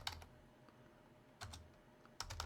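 Keys on a computer keyboard are tapped in a quiet room, a few short clicky bursts of typing separated by pauses, faint and close.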